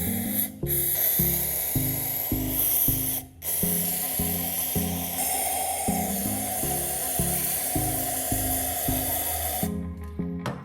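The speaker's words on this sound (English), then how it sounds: "Then, I spray a sufficient amount of WD-40 into a plastic cup." Short bursts of WD-40 spray into a plastic cup hiss close and steady, with brief pauses between the squirts and no talking.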